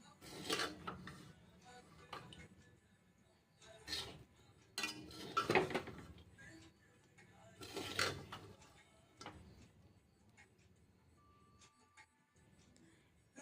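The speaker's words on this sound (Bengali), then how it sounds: "ভেজে রাখা ডিমের ভুজিয়া দিয়ে দেবো আবারও ভালো করে মিশিয়ে নিতে হবে মিক্স করে নিতে হবে" Chicken fried rice being mixed in a pan with fried chicken and scrambled egg, heard as irregular bursts of spatula scraping and clinking against metal with quieter pauses between, with no talking.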